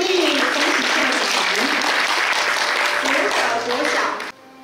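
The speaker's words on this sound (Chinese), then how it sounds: "请大家掌声鼓励鼓励，恭喜校长。" Loud, steady applause from an audience at a school principals' handover ceremony in Changhua, with a speaking voice running over it and the clapping cutting off abruptly just before the end.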